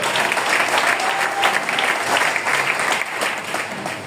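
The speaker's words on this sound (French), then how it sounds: "On peut acclamer fortement le Seigneur." A church congregation breaks into sustained applause to acclaim the Lord, a dense, steady wash of clapping from many hands that fills the room at even loudness throughout.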